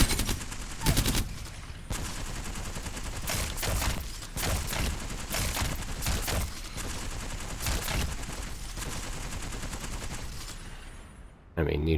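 The L-Star energy gun firing in Apex Legends, long loud bursts of rapid automatic shots with brief pauses between, continuous gunfire with game effects until it cuts out near the end.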